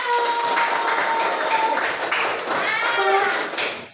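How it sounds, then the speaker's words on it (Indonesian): A classroom of students claps for a group that has just presented, giving a lively burst of applause that continues steadily and then tapers off. A few voices can be heard faintly within it. "Beri tepuk tangan untuk kelompok 1."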